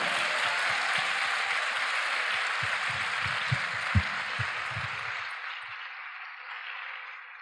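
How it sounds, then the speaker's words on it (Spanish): Sustained audience applause fills the hall at a pro-life festival event in Puebla, loud and dense for about five seconds before fading out, with a few sharper claps standing out near the end. "Un fuerte aplauso a la vida."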